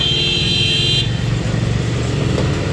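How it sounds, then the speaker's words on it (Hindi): Busy road traffic in a city sector rumbles past close by, with cars and motorcycles streaming along and a sustained horn toot that cuts off after a second, then continued engine noise. "इतनी गाड़ियाँ मोटरसाइकिल निकल रही हैं यहाँ से"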